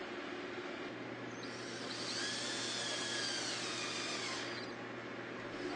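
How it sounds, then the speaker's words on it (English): A power drill drives screws down through the bottom rail bracket into a Trex Transcend composite stair rail, one steady whirring run of several seconds under a constant background hum. "Using screws provided, screw down through the bottom RSB into the rail."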